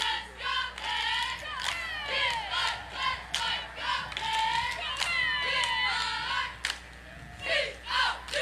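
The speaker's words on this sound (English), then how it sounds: "Oh, we're going to get a cheer here." Cheerleaders from South Brunswick perform a cheer at a Fourth of July festival parade in Southport, North Carolina, their rhythmic shouted chant rising and falling in close, loud bursts with crowd noise throughout.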